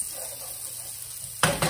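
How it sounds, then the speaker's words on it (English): Shallots and garlic sizzle in a pan, a soft steady frying hiss with a brief stir or clatter near the end. "I hear my shallots and garlic sizzling, and I know that they're browning"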